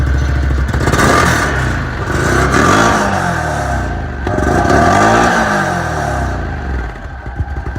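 A Ski-Doo Renegade XMR 1000 snowmobile engine with its stock muffler revs up and drops back repeatedly, a rough, rattly mechanical roar close by with no talking.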